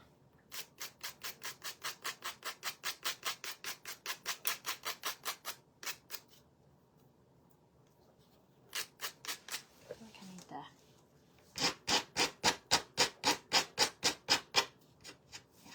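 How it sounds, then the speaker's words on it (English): Coarse Dollar Tree file rasping along the edges of small craft trees in quick rhythmic strokes, close and crisp, in bursts with pauses between runs. "just going to sand the edges of these little trees. I got me a new file at Dollar Tree"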